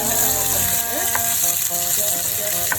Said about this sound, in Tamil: வெண்டைக்காய் நல்லா குக் ஆகி நல்லா ஃப்ரை ஆகிற வரைக்கும் நம்ம குக் பண்ணிக்கலாம்